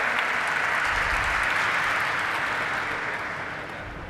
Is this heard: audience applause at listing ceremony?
yes